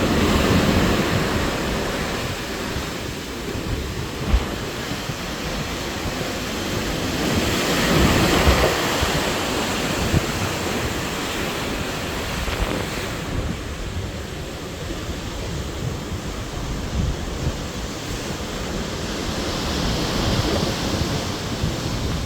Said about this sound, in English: enjoying the breeze. The wind in your hair, the sea at your toes.